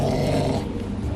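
A dog at a dog cafe in Hong Kong gives a deep, continuous close-up growl, loud and rumbling throughout the short moment.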